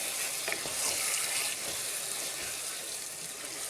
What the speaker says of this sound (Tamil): இந்த மசாலாவோட மட்டன் நல்லா மிக்ஸ் பண்ணி விடுங்க.